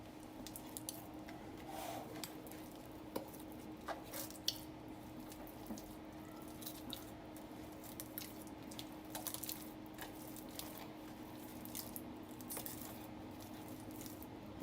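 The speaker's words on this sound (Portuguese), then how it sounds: "Com as mãos umedecidas, nós vamos incorporar o levain agora." Wet hands work levain into a rustic cacao bread dough, giving soft, steady squishing and sticky slapping sounds with small irregular wet clicks that carry on for about fifteen seconds over a low background hum.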